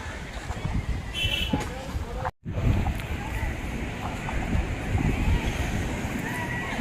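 Continuous roar of sea surf washing onto the shore at Diu, mixed with gusty wind buffeting the microphone; the sound drops out briefly partway through.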